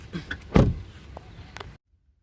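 The driver's door of a Tata Altroz opens and shuts, with one loud, solid thud near the start, some lighter clicks and rattles after it, and then silence.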